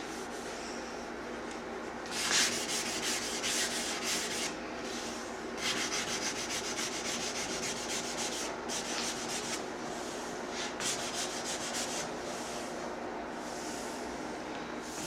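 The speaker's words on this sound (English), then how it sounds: "We are now on the final sanding step for this patch." A gel coat patch on a Carlson CVX-18 boat being hand-sanded with 320 grit sandpaper, close, rhythmic back-and-forth rasping strokes in bursts with brief pauses between.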